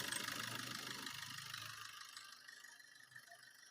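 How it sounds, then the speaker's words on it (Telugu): Maruti Vitara Brezza ZDi Plus diesel engine idling in a steady, even drone with a faint rattle, loudest at the start and easing slightly toward the end, with no talk over it. "ఇప్పుడు ఇంజన్ అయితే స్టార్టింగ్ లో అయితే ఉంది"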